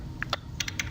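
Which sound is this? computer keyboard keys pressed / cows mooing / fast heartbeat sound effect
computer keyboard keys pressed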